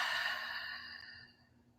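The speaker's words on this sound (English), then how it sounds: "take a deep breath in, exhale out" A single slow exhale of breath, close and soft, fading gradually over a couple of seconds into quiet.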